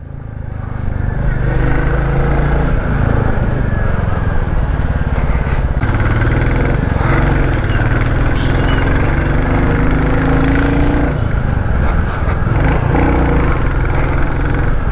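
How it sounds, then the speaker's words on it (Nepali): A Royal Enfield Classic 350 BS6 motorcycle engine idles and runs steadily with a deep, throbbing exhaust rumble from the stock silencer, loud and close throughout, with no talking. "साइलेन्सर साउन्ड लिनलाई केही पनि चेन्ज गर्नु पर्दैन"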